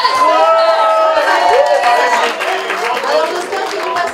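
A large crowd at a live gala concert applauds and cheers loudly and steadily, with whistles and shouts rising above the clapping throughout.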